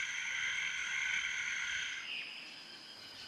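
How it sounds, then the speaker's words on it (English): Costa Rican poison dart tree frogs call in a rainforest setting, a sustained trilling chorus of moderate loudness that thins out and fades near the end. "These Costa Rican tree frogs exude a poison from their skin."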